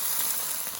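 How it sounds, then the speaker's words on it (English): Vegetables sizzle in olive oil in a pan, a brief, steady, bright frying hiss with no talk. "these are sizzling and popping"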